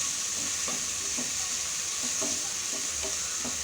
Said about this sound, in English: mix it well until the tomato cooks well